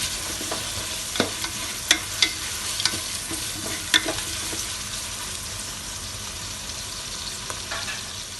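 Onions sautéing in a pan over a medium flame for prawn biryani, a steady soft sizzle broken by several sharp scraping and clinking stir strokes, close and alone with no talking.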